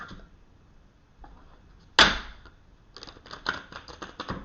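A sharp slap of cards, then a brisk run of dense, papery clicks as tarot cards are shuffled close by, with no talking.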